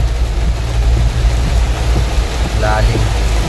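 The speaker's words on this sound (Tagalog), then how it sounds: "kakaumpisa lang ng ulan" Rain at the start of a downpour makes a steady, dense hiss with a heavy low rumble underneath, loud and constant throughout, with a brief tonal sound near the end.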